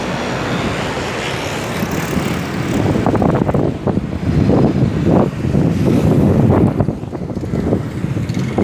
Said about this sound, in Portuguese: Ventando demais, irmãos.